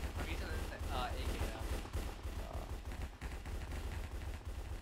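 Rapid AK rifle gunfire in the Cops and Crims video game, bursts of sharp cracks repeating over a low rumble, with voices chatting underneath.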